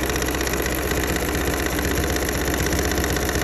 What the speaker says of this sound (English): now we're going to lengthen our stitch length and go at it again